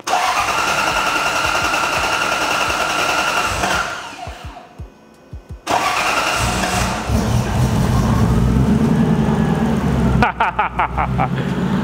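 A supercharged V8 in a drift truck fires up for its first start and settles into a loud, steady idle. It dips briefly midway with sputtering, then catches again and drones on.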